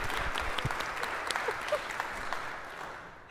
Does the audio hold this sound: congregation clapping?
yes